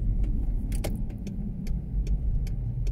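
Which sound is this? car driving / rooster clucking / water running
car driving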